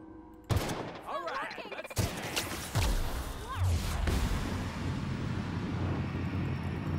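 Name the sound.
gunfire in The Outer Worlds video game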